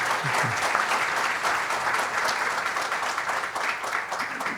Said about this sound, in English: A big round of applause for Maharaj once again.